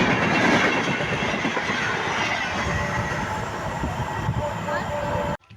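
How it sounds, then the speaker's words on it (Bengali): Khulna-to-Dhaka passenger train running from Jessore passes close by, a loud continuous roar of wheels and rail clatter with faint squeals, cutting off abruptly at the end. "খুলনা থেকে ঢাকার উদ্দেশ্যে ট্রেন চলাচল শুরু হয়েছে, এটি যশোর থেকে চলতেছে।"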